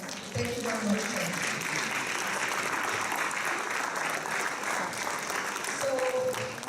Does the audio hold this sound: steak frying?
no